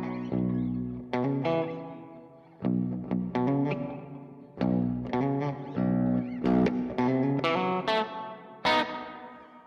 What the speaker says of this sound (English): Lots of reverb.